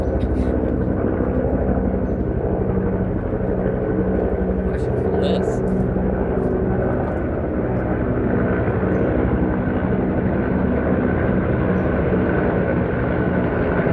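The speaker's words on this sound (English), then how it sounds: "Look at that, 3 helicopters." Loud, steady rotor and engine roar of three helicopters passing overhead, filling the whole clip with a broad rumbling drone.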